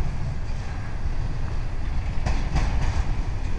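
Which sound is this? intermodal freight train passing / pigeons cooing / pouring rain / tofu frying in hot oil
intermodal freight train passing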